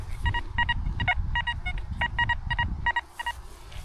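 A metal detector's high-signal tone, reading ID 90, sounds as short, bright electronic beeps in quick bursts, fairly loud and close, with brief pauses between groups over low rumbling noise.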